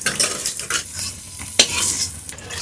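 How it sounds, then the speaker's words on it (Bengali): Loud, close sizzling of paneer frying over high flame in a hot pan, broken by quick scraping strokes of a spatula turning the pieces. "একটু হাই ফ্লেমে পনিরটাকে ভেজে নিতে হবে"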